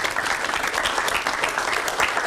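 Steady audience applause at a living history heritage event fills the whole moment, dense and even, a crowd clapping together without pause.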